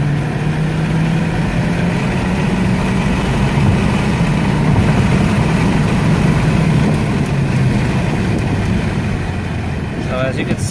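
A 2015 Hyundai Sonata Eco with a 1.6-litre turbo engine drives along a road, its steady low engine drone and road rumble filling the cabin continuously and loudly throughout.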